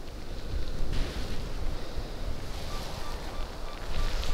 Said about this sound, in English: Getting the wind spraying the water up at me now.